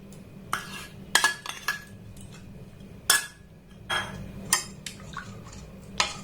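Sour yogurt, blended smooth, is added to milk in a metal pot, with scattered sharp clinks and scrapes of a spoon against the pot, spaced irregularly, close and fairly clear over quiet background.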